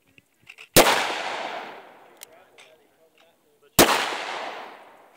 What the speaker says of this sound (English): That was a PDX one round.